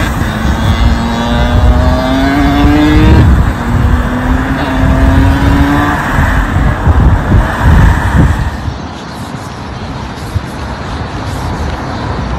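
A motorbike engine revs hard during a wheelie, with rising pitch sweeps that break off and climb again, loud and close, then fade into road noise.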